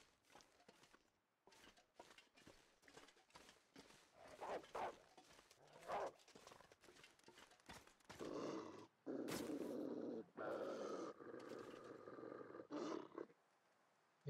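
Wolf in the survival video game The Long Dark growling and snarling as it charges, a series of rough growls building into a loud sustained snarl with heavy in-game noise, no talking.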